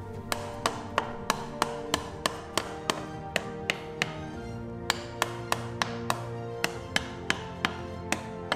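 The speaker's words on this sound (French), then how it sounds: "Tapotez avec votre marteau pour bien enfoncer le cadre." A hammer taps steadily on a metal frame being set into mortar, a fast regular series of sharp close knocks with ringing overtones, no talk over them.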